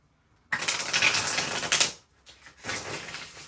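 Rapid papery riffling of tarot cards being shuffled, a dense burst lasting over a second, a short pause, then a second shuffle, close and fairly loud.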